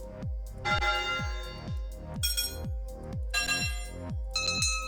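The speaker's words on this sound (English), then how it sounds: "I could have a bell though." A bell in the video game Stormworks rings repeatedly at a steady pace, each strike ringing out and fading, with bright shimmering overtones layered over a low pulsing tone.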